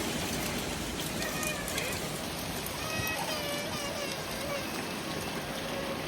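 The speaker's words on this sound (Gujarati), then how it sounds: "તો જો વરસાદ ચાલુ છે અને કરા એટલા પડ્યા છે રસ્તા પર" Steady rain mixed with hail falls on a road during a storm, a dense, even patter and hiss that stays constant throughout, with faint voices in the background.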